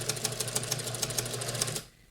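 A domestic sewing machine stitches a narrow rolled hem on fabric: a steady, rapid mechanical clatter of needle strokes running close and loud for nearly two seconds before stopping abruptly.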